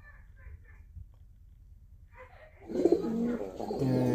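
Green-necked pigeons cooing in a loft, a few soft faint coos at first, then louder, closer cooing and calls near the end.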